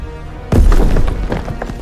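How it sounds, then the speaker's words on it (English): A grenade explosion in Call of Duty WW2 during the Battle of Remagen on the Rhine, 1945: a sudden loud, deep boom after a short quiet lead-in, followed by rumbling debris and a churning battle din. "Tossing out a grenade!"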